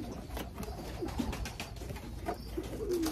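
Racing pigeons coo softly in a loft, with a few low, rounded calls over steady background rustle and noise, no voices.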